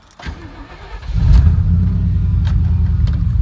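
A car engine cranks briefly and then catches with a weak, low start, settling into a steady close idle rumble.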